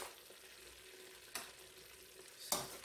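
Steamed vegetables stir-fried in a pan give a steady low hiss, broken by two sharp scraping clatters about a second apart, with no voices.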